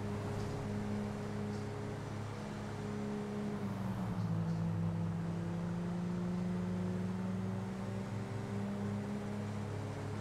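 Steady droning hum of an airplane passing overhead in a role-play video game, a low engine tone whose pitch slides and shifts midway, even and moderately faint throughout.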